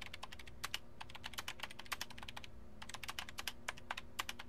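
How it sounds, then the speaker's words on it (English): Keyboard typing in the video game 428 Shibuya Scramble: quick, irregular clicking keystrokes in bursts, fairly faint and close, with no voices. "he began entering commands on the keyboard"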